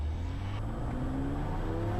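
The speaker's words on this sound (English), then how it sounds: "We start the timer and hit the takeoff power." A Diamond DA50 aircraft's piston engine runs at takeoff power on the runway: a steady, loud droning roar with constant harmonic tones, heard continuously from inside the aircraft without speech.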